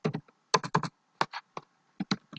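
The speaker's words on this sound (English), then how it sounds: "You have to type this entry here." Typing on a computer keyboard in a spreadsheet program, heard as irregular bursts of close, crisp key clicks with short pauses between them and no talk.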